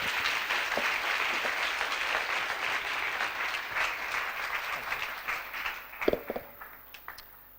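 Audience applause at a church gathering, a dense sustained roar of clapping that carries on for several seconds before thinning into scattered, louder individual claps near the end.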